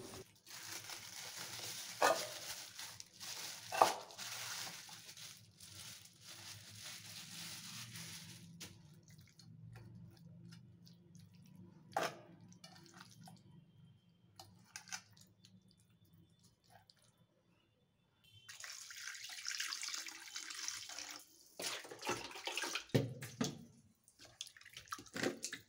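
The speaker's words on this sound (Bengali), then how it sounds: "তো চলো এখন ভালো করে চিকেনটাকে ধুয়ে নিই" Tap water runs over raw chicken in a sink, splashing in uneven bursts with drips and pauses, the flow stopping for a while before surging again.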